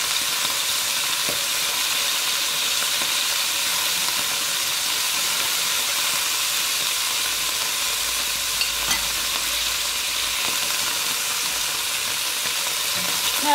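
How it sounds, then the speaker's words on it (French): Beef pieces for boeuf bourguignon, cooked in white wine, searing in a pan: a loud, steady, close sizzle and hiss that runs unbroken from start to finish, with a few faint clicks from the pan. "ça fait déjà 3-4 minutes que ma viande est colorée d'un côté. Je vais la retourner."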